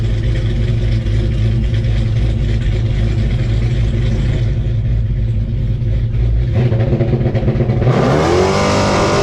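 Drag race cars, Frostbite against a yellow Super Cat, roar loudly down the track at a Mopar event at the Rock, one sustained dense engine howl with a sharp rising rev surge near the end.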